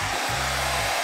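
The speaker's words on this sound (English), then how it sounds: "So if I can find the hairdryer." A handheld hair dryer blows steadily and loudly at close range with a constant whooshing airflow and motor hum, used to warm glass while remaking old candle wax into new candles.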